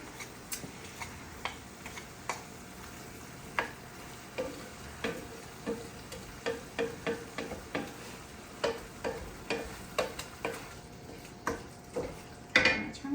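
Food for baked ziti browns in a Crockpot Casserole Crock, giving a soft sizzle with a steady series of sharp pops and crackles spaced about every half second, with no talking.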